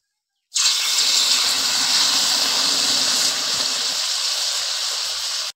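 Water poured into a hot pan of fried taro hisses loudly and steadily, the sharp steam sizzle starting abruptly and holding nearly level for about five seconds with no talk.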